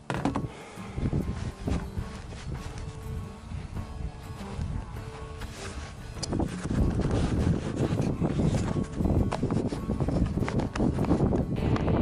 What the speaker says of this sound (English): Gusty winds about 10 to 15, give or take.